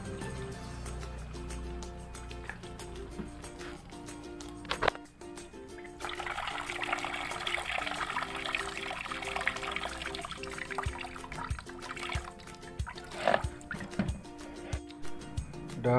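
Water pours and trickles over a Yamaha Tiger motorcycle as it is washed, a steady splashing wash that thickens midway and carries on, with a low engine or machine hum running underneath.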